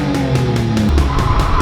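A Subaru BRZ / Scion FR-S fitted with an overpipe spins donuts, its engine droning loud and close with broad tire-skid noise running throughout and no pause.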